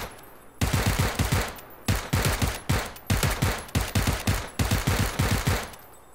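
Repeated bursts of automatic gunfire in the video game PUBG, loud and close, firing in several rhythmic volleys with short pauses between them.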